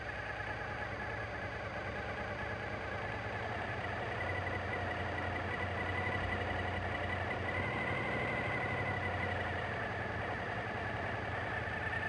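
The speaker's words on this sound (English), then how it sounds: "Carefully open the lever until the engine RPM rises to 1400." Suzuki TL1000S motorcycle engine idling with RPM raised to about 1400 during throttle body adjustment, a steady close mechanical hum with a slight lift midway, no talk.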